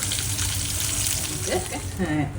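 Prawns frying in hot coconut oil in a pan, a steady close sizzle and crackle with a few faint scraping touches near the end.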